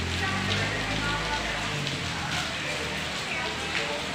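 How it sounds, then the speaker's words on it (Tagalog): Heavy, unceasing rain falls in a steady dense hiss on surfaces nearby, with scattered drips and a low rumble, while a person speaks over it. "Maulan po talaga."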